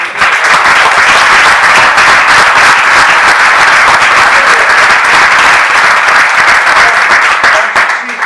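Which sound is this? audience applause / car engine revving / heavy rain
audience applause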